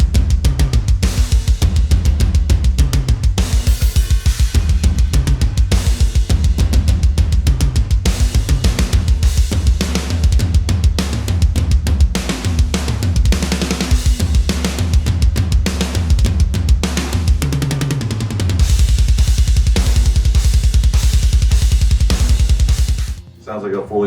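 A loud, dense death metal track plays with a programmed drum part built from Bogren Digital plugins, relentless fast kick and snare hits pounding under heavy distorted guitars before cutting off abruptly at the end.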